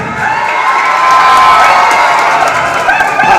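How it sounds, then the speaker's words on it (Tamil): A large festival crowd at a national paddy festival in Thiruthuraipoondi cheers and shouts loudly, with children's voices mixed in, a dense sustained roar that stays close and steady throughout. "கைத்தட்டுங்க"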